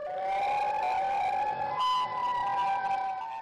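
A wailing siren from the Siren Head creature in a video game, loud and sustained with a wavering pitch and a brief sharp jump partway through, with no talking.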